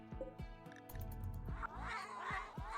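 Cats meow and caterwaul in a RimWorld colony, several drawn-out wavering cries over steady game music and low ambient sound.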